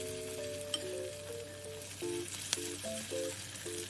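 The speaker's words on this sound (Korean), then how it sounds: "양파 구워지는 소리와 어우러져 진짜 향도 좋고 맛있어요." Onions frying in a pan, a quiet steady sizzle with a few faint clicks and tonal bursts of music over it, close and low in level.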